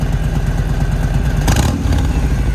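Harley-Davidson motorcycle fitted with a Bassani exhaust, its engine idling with a loud, steady low rumble that swells into a brief rev near the middle before settling back.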